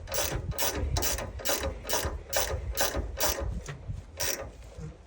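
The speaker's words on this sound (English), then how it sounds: "And get that shock bolt back tight." A ratchet wrench tightening the shock bolt on a Mitsubishi Minicab kei truck, a rapid run of about a dozen sharp clicking strokes in steady rhythm, close and loud with no talking.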